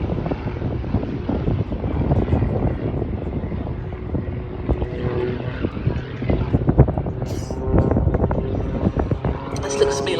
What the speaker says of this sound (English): The sound of the Pitts engine and those jets. That whistling noise is extraordinary.